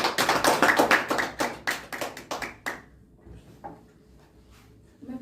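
A church congregation claps together in a fast, even rhythm for about three seconds, then stops, leaving a quiet room with faint stray sounds.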